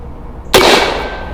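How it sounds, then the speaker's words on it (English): A single sharp bang as a cannon made from a can fires gummy bears, loud and close, with a short noisy decay after the blast. "let's see what happens when we hit him with some gummy bears out of our canned cannon"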